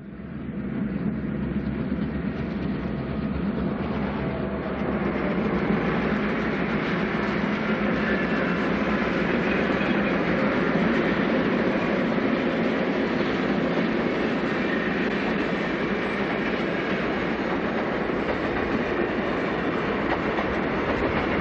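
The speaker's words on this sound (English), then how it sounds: "Santa Fe train number 23 emerges from behind the Texas Chief to start its journey west out of Chicago." Santa Fe diesel train number 23 pulling out of Chicago, a broad steady rolling roar with faint rhythmic clatter of wheels over rail joints, sustained and moderately loud throughout with no voices.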